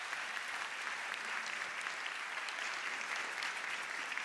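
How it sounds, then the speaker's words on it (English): Steady audience applause at an opening session as speakers join the stage, a continuous wash of many hands clapping, even and somewhat distant, with no voices over it. "Please join me, and please give them also a round of applause."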